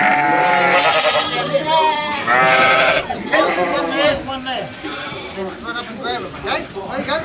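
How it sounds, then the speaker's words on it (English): Sheep and lambs bleat loudly and repeatedly at close range during lamb docking on a New Zealand farm, several overlapping calls with shouting and movement around them. "this is Alex and Stan catching the lambs while we're docking"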